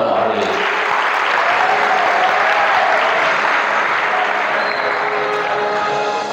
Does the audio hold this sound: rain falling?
no